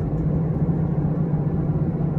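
A 2003 Infiniti I35 with 86K miles drives off and pulls through its gears, a steady close engine drone with a constant low hum and no voices.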